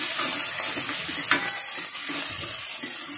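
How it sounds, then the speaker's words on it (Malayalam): Chopped shallots fry in a pan for a chickpea curry, a bright continuous sizzle with soft stirring scrapes and one sharper utensil knock, close and fairly loud. "അരിഞ്ഞു വെച്ച ചുവന്നുള്ളിയാണ് ഇട്ട് കൊടുക്കുന്നത്."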